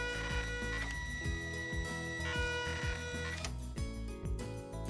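A Zebra ZT410 thermal label printer hums steadily with a rhythmic series of soft mechanical ticks and clicks as it feeds and prints, heard alone and fairly quiet.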